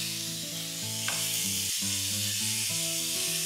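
Meat sears in a hot pan with a steady, loud sizzle that briefly shifts and crackles as the pieces are flipped to brown their sides, the frying hiss continuous throughout with no voices.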